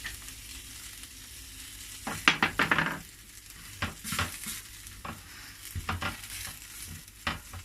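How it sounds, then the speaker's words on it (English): Garlic sizzles softly in a pan while a utensil stirs and scrapes, giving a cluster of sharp clatters followed by scattered taps. "so while I'm frying this off"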